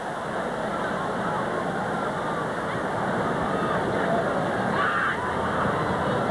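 A very large crowd at the Sydney Football Stadium during an Olympic football match between Australia and Canada, heard as a steady, dense roar of massed voices that holds at an even level throughout.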